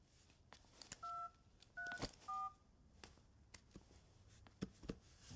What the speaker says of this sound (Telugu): ఆయనకు ఒకసారి కాల్ చేస్తాను.